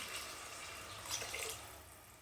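Water is poured into a pan of well-sautéed tomatoes for tomato rice, a faint, steady splashing trickle lasting about two seconds with no talking.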